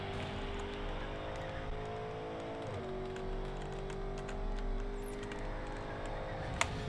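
A car in a racing video game drifts through an autocross course, its engine droning steadily with a pitch shift as the tires slide and squeal, heard at a low, even level with a brief click near the end.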